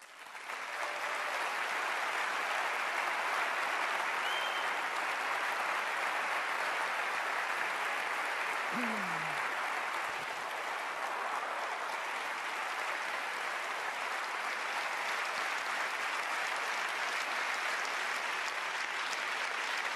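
Distant, steady applause from a political audience, a soft unbroken wash of clapping that continues for the full stretch without any voices.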